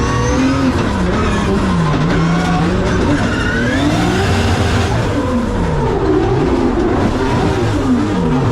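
A 2025 Drift Games Superjet drift car at a drift event: a loud, continuous engine that revs up and down in sweeping pitch swings, mixed with tire squeal, heard close and without pause.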